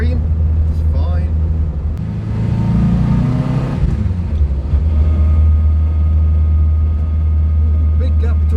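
A car engine drones steadily while driving on the road, with a brief surge and a dip in tone as it shifts gears; an engine hum sits loud and close throughout.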